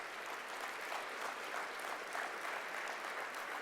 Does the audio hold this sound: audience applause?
yes